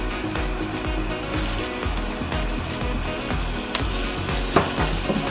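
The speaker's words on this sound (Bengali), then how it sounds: "পেঁয়াজের সঙ্গে সঙ্গে যেন চিকেনটা এখানে রোস্ট হয়ে যায়।" Chicken pieces frying with onions in a pan, a steady loud sizzle with scraping stirs and the occasional clink of a utensil, no voices.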